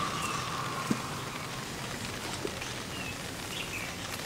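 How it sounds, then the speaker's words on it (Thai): Steady rain falling outdoors with a soft, even hiss of drops on surfaces, faint and continuous, with a couple of brief taps and a few distant bird chirps in the background. "ฝนตกฝนตก"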